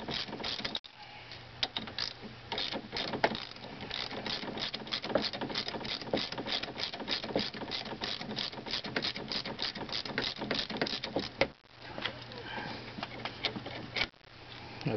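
A hand ratchet rapidly clicks, close up, as it loosens the fork clamp bolts on a Honda NHX110 scooter, a dense run of quick mechanical ticks with short pauses between bolts.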